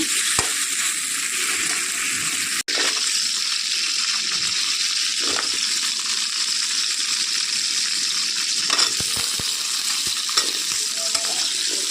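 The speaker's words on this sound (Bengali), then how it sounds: "ভাজতে দিয়েছি আলু" Potatoes fry in oil in a pan with a steady, even sizzle that carries throughout, broken by a sharp clack and brief stirring noises.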